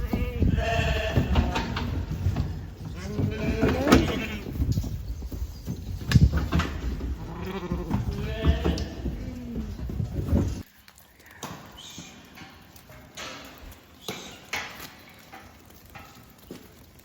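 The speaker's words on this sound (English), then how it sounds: "we're just going to load up the first group, which is the ewe lambs" Ewe lambs are loaded in the dark early in the morning, with repeated loud bleats and clattering hooves close by, then quieter, scattered bleating and movement in the last few seconds.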